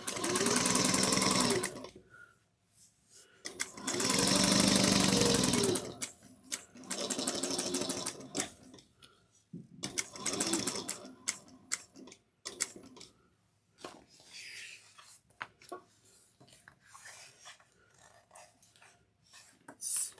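Sewing machine stitching a bag in several close bursts of varying length, a few long runs early followed by shorter stop-and-start stitches and backstitching separated by quiet gaps.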